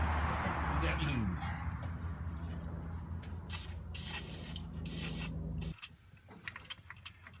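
Lube sprays in a long continuous hiss onto the distributor of a Ford F250 with a modified 400 engine, then cuts off sharply, followed by light handling sounds while people talk nearby.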